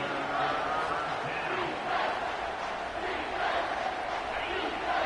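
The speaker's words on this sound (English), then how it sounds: "this crowd is tearing the lid off this place" A stadium crowd roars in the NCAA 25 college football video game during a third-down play. The roar is loud and steady and fills the whole stretch, with slight swells and no clear break.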